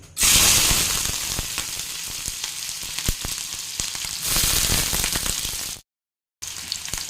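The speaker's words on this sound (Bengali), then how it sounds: "আর এখন এই তেলের মধ্যে আমি দিয়ে দেবো হচ্ছে পেঁয়াজ কুচি" Chopped onion drops into hot oil with a loud rush of sizzle, then fries in a steady close crackle with small pops, swelling once more before a brief dropout and resuming.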